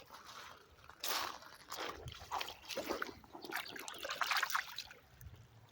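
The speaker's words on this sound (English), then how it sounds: "Let me wash that off." Running water rinses something off, a continuous trickling and splashing wash that swells and eases in close, uneven surges with no voices.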